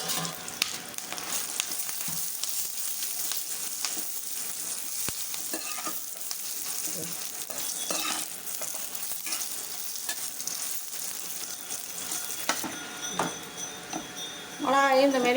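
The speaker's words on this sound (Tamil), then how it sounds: "இப்போ மிளகாயை போட்டு வறுத்து எடுத்துக்கலாம்." Red chillies roasted in a pan for idli podi, making a continuous moderate crackle and sizzle with occasional stirring scrapes and light clinks that continue for a long stretch, growing louder near the end.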